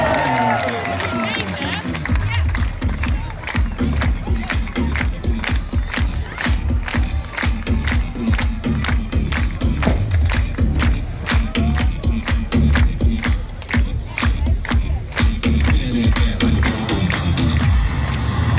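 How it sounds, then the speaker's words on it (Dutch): A stadium crowd at the Ajax open day cheering and clapping rhythmically as a player is introduced, a fast steady beat of claps with shouts rising over the noise. "Geef hem een groot applaus, hier is Kasper!"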